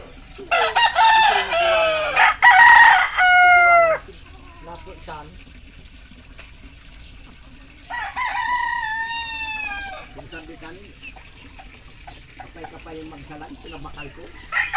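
A backyard rooster gives loud, close crows in two bursts, the first strong and layered, the second after a quiet gap, with chickens clucking softly between and after.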